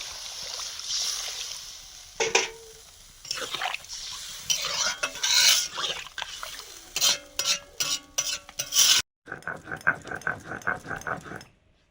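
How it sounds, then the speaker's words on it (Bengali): Mustard seeds are ground by hand for a Bengali dish of Malabar spinach seeds and prawns, giving steady rhythmic scraping and gritty rubbing strokes up close, with a run of short regular strokes near the end. "পুঁই বিচি রান্নার জন্য সর্ষে বেটে নিচ্ছি।"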